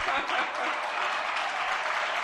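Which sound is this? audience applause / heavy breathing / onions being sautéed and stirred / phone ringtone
audience applause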